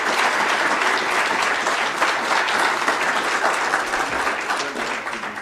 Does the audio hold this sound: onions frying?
no